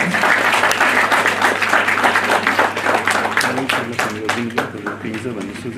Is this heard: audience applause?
yes